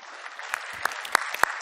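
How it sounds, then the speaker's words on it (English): An audience applauds at the Los Angeles unveiling of the 2019 Porsche 911, a brief burst of dense clapping with a few sharper, louder claps standing out. "Please give Maria a round of applause."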